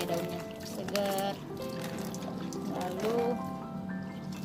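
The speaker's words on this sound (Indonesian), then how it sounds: "untuk yang hidroponik saya percikin seperti ini supaya daunnya segar" Water patters and trickles as it is sprinkled by hand over hydroponic mustard greens, soft and close, with a person talking over it.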